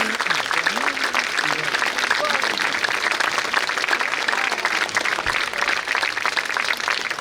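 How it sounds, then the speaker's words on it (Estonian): A crowd at an outdoor town-anniversary concert in Tapa with the town orchestra claps in steady, continuous applause, while a voice speaks faintly underneath. "Aitäh, aplaus mulle!"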